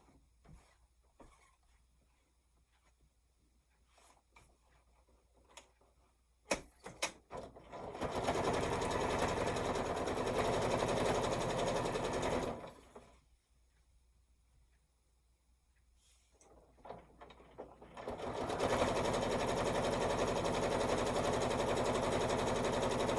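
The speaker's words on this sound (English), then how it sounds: "just going to fold that up and sew this top edge" A sewing machine stitching along the top edge of a quilt runs in two long steady buzzing bursts separated by a quiet pause, close and loud, with faint clicks of handling before it starts.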